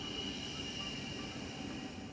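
A German train runs on its rails with a steady, continuous rumble and a faint high whine, an even interior-style drone with no voices.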